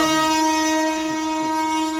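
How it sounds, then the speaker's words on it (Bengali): A large train passes close by with a loud, sustained horn blaring throughout, its steady tone over the rumble of the rolling cars. "বিশাল বড় ট্রেন।"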